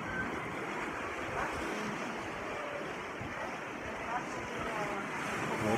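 Sea surf washes onto Praia do Castelo in the Algarve as the tide goes out, a continuous windy roar of breaking water with gusts buffeting the microphone.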